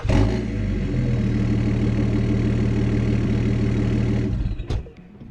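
A car engine cranks and catches, then settles into a steady, loud idle for about four seconds before being switched off, shortly after a routine oil change with the car lowered back onto the ground.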